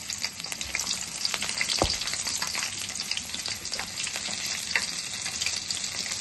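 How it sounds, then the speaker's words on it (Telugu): Crushed garlic sizzles in oil left over from frying peanuts and cashews, with a soft, steady crackling hiss broken by light stirring scrapes, close and moderately quiet with no talking. "మనం పల్లీలు జీడిపప్పు వేపుకున్న ఆయిల్లో ఇప్పుడు మనం దంచి పెట్టుకున్న వెల్లుల్లిపాయలు వేసుకుందాం"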